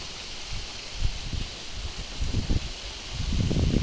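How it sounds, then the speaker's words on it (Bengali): Gusting wind with a steady hiss of rain driving in through a house window, broadband and fairly loud, swelling in bursts with low rumbles from buffeting air. "কি হাওয়া ঘরের জানলাতে জল ঢুকছে"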